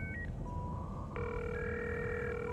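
Telephone ringing in Cyberpunk 2077: Phantom Liberty, heard as electronic ring tones with a short chirp followed by a sustained steady ringing that carries on to the end, fairly quiet over a low background hum.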